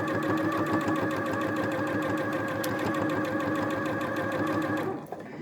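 A sewing machine runs steadily and close while top stitching a fabric pork pie hat, with a fast, even, continuous whirring rhythm that stops abruptly near the end.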